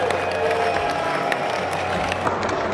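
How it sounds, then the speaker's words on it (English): A cast of actors cheers and goes wild at a San Diego Comic-Con panel for The Orville. A dense, steady wall of crowd cheering and clapping stays loud throughout. "the rest of the cast cheering and going nuts"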